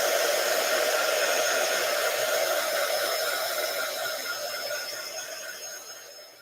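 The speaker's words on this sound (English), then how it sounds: "I don't want this to dry a little bit, so I got my standard heat gun" A standard heat gun blowing steadily over drying watercolor paint, a loud, close, continuous roaring hiss that tapers slightly toward the end.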